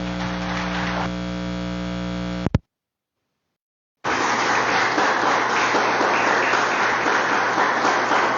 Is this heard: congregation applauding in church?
yes